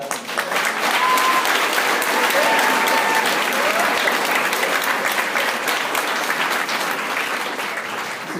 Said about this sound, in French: Bravo, moi j'applaudis ça, franchement.